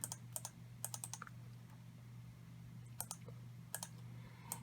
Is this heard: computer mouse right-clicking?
yes